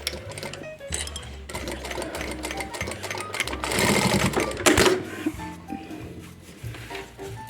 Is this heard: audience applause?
no